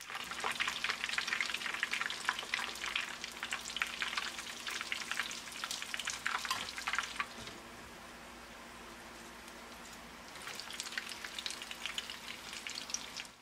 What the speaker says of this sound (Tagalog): Then, deep fry na natin.